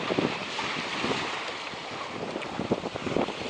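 Wind gusts and waves wash around a small sailboat under sail at sea off St. Lucia, near land, with the swell building. A steady rushing roar of wind noise is broken by irregular splashes and slaps, with no voices.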